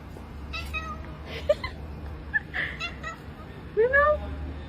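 A house cat meows a few times in short, close calls, with a longer rising meow near the end, over a low steady background hum; light human sounds such as a chuckle may be mixed in.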